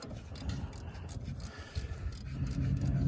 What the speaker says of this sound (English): just simply use my 12mm wrench